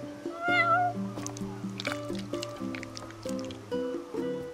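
A cat in the Final Fantasy XV video game meows several times over a steady layer of game music, each call fairly close and clear.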